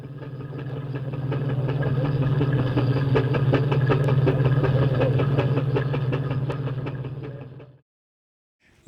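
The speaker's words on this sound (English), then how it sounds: "Oh, I love that old engine." An old engine chugs steadily at a mid pitch with a regular mechanical beat, fairly close, then cuts off abruptly near the end.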